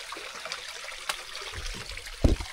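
Water flows in a stream with a steady trickling, splashing wash at moderate volume, marked by a few louder splashes and low thumps near the end, with no talking.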